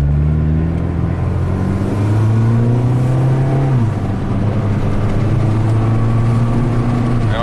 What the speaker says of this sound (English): I can hear the turbo working.